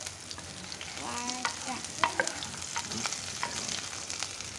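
Green chillies dropped into hot oil crackle and sizzle close by, with scraping stir strokes and small spatters over a steady frying hiss.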